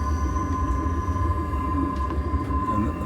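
Bernina Express train running through the Swiss Alps, a steady rumbling rail roar with a constant mechanical drone and tonal hum, close and continuous throughout with no voices.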